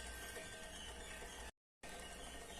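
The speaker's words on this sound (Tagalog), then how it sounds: "tunog ng takore. Ibig sabihin nun, tumutunog siya dahil sa grabing init." A kettle rattles over a DIY burner fuelled by denatured alcohol with used cooking oil, driven by intense heat. A steady dense mechanical rattle runs throughout, close and continuous, broken only by a brief gap of silence.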